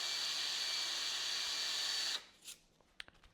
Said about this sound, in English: I'm going to hold it while I spin it, and this is going to sand it evenly all around until it fits perfectly.